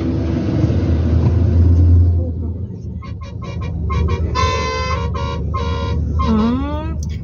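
Car horn honking on a road among goats and sheep, a series of short toots followed by a longer bending blast over engine rumble, with people talking nearby.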